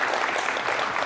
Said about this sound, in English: Give our presenters a big round of applause.